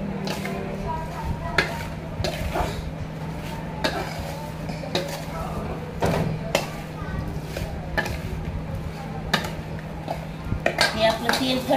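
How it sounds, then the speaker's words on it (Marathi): Turmeric and spices are mixed by hand into a large bowl of cut mango for about 1.5 kg of pickle, with steady clinks and scrapes of a spoon against the bowl over a low, constant kitchen hum. "आता मी सगळं एकदम मिक्स करते।"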